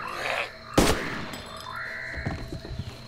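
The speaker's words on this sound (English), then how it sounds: "here those gunshots" One sharp video game gunshot cracks out loudly in DayZ, followed by quieter thuds and a short electronic tone against a low background hum.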